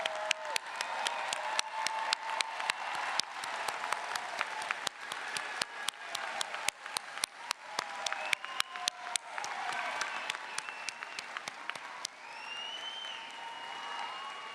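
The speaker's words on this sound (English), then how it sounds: "Would the graduates please rise and turn to lead us in applause for your family and" Sustained applause from a large university commencement audience as graduates rise to honor family and friends, dense clapping throughout with occasional louder individual claps and faint crowd murmur, tapering slightly near the end.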